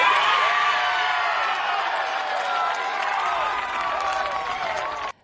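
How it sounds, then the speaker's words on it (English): The IU women's basketball team cheers and claps in a room, reacting to a No. 1 NCAA tournament seed: a loud, continuous wash of voices and applause that holds steady before cutting off abruptly. "With a hearty cheer, the IU women's basketball team reacts to the Hoosiers' #1 seed in the NCAA tournament."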